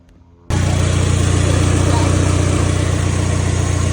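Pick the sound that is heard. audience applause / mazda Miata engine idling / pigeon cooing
mazda Miata engine idling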